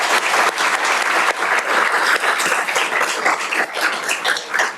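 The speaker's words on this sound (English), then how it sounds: "Let's give her another round of applause." Sustained applause from an audience at a university senior recognition ceremony, dense and even clapping that continues steadily throughout.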